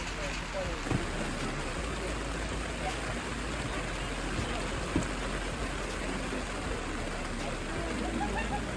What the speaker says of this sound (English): The rain has gotten worse.